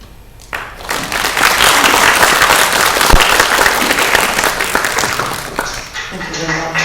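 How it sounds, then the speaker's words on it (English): Audience applause fills a hall after a translation-centre presentation at the University of Gdańsk, a sustained wash of many clapping hands starting abruptly and fading near the end, with a voice coming in as it dies down. "Thank you very much for your applause"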